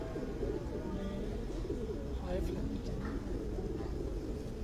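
A prized show-breed pigeon coos faintly amid steady low background noise and a room of people murmuring, the calls soft and intermittent.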